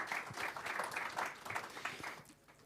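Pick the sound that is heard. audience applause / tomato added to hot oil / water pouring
audience applause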